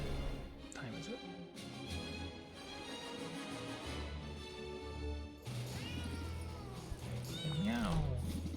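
Cats meow repeatedly in the video game Potionomics. Several rising and falling meows sound clearly over continuous game music, with the loudest calls near the end.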